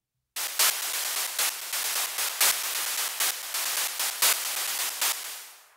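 Programmed white-noise shaker pattern built in Ableton Live 11, a dry electronic hiss pulsing in an even, quick groove with brighter accented hits, loud and upfront, then fading out at the end.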